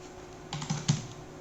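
Java code typed on a computer keyboard: a short burst of three or four quick, close key clicks at moderate volume, with no voices.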